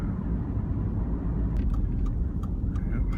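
A tractor engine runs outside, a steady low rumbling drone at moderate distance, with a few faint higher clinks or chirps breaking in toward the end.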